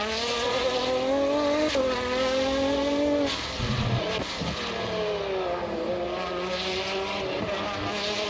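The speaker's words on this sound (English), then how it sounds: "Man, the downshifts." A race car in a sim racing game on the Hungaroring circuit, its engine note climbing and then dropping through several quick downshifts, with tire squeal mixed in under a loud, steady roar.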